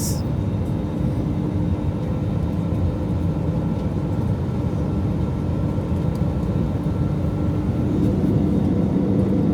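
Steady broadband cabin drone of a SriLankan Airlines jet climbing and banking on a Bangalore to Colombo flight, a constant low roar with no voices, unchanging throughout.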